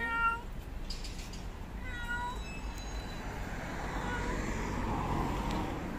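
A cat meows repeatedly from inside a carrier on the way to the vet in Seville, its cries rising over a steady rumble of car and road noise during the drive.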